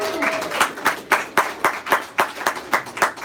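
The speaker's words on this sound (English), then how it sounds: "Let's give Trey a big round of applause" Applause at a team meeting, a run of evenly spaced claps, fairly close and moderately loud, keeping a steady rhythm for several seconds without voices.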